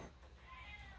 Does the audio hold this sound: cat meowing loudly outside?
yes